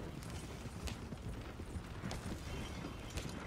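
Horse hooves clip-clop steadily as a horse pulls a wagon in Red Dead Online, a faint, even rhythm under a broad rumbling wash of wheel and ground noise with no talking.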